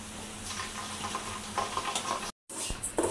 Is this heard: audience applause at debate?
no